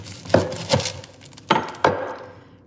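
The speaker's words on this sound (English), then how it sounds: "So we're chopping the onion into little cubes." A knife chops an onion into small cubes on a cutting board in a home kitchen, with four sharp knocks in two pairs, close and fairly loud, each followed by a brief scrape.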